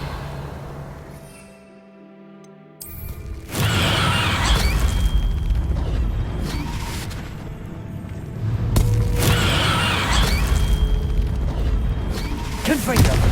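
Revelio reveal spell cast in the Hogwarts Legacy video game: after a quiet start, a loud booming magical burst swells with shimmering, shattering textures, followed by a second surge later, with voices talking over parts of it.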